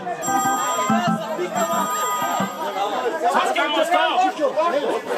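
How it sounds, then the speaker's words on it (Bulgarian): A mobile phone rings with a bright, repeating electronic tone amid loud crowd chatter at a 50th birthday jubilee party in a village; lively voices overlap throughout. "Телефона му звъни, ма човека отиде до тоалетната."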